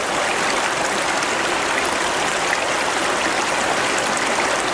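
Clear Creek flowing in a steady, loud, close rush of water over rocks, a continuous broadband babble with no voices.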